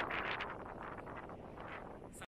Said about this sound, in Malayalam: വീശിക്കൊണ്ടിരിക്കുന്നത്, അടാറ് കാറ്റ്.